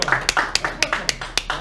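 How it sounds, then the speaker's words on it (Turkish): Audience clapping for Murat at a comedy show, a burst of about six or seven sharp, evenly spaced claps, fairly close and moderately loud, with no talking over them. "Arkadaşlar Murat alkışlıyoruz."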